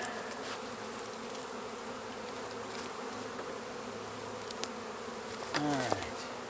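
Feral honeybees swarm around an opened hollow, a steady dense hum of many wings filling the space throughout, with a louder bee passing close near the end.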